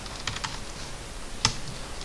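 Keys on a computer keyboard are struck while AutoCAD commands are entered, giving a few soft, close clicks early on and one sharper tap later, all quiet and with no voices.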